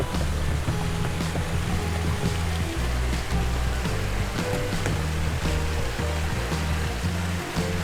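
A clear mountain valley stream on a forest trekking trail near a waterfall flows with a steady, close rushing wash. Background music plays throughout.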